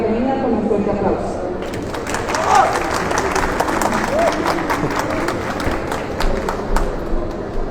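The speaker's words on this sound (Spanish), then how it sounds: "démosle la bienvenida con un fuerte aplauso" Applause from an audience welcoming a speaker at a book presentation during the 2022 Bogotá book fair, a dense crowd clapping that continues through the clip with murmuring and some cheering mixed in.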